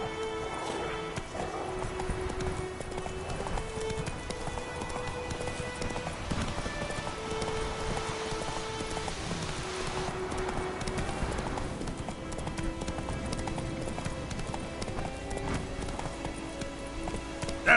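Roach, Geralt's horse in The Witcher 3, gallops in a steady drumming run of hoofbeats that carries on for the whole stretch, with game music tones layered over the hooves.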